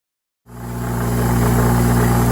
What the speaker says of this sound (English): I can clean that all off just using the wire wheel. So save yourself a ton of time, get it going.